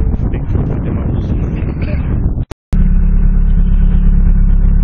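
Engine of a 1993 Nissan Tsuru idling steadily and loudly, briefly cutting out and then running again with a smooth low hum.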